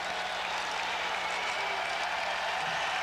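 A basketball crowd at a Tennessee college game applauds in a steady, continuous wash of clapping that stays fairly distant and even.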